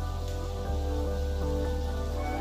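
Rice-flour-coated brinjal slices frying in oil, a steady crackling sizzle like rain on a surface, with a low hum underneath, continuous and close.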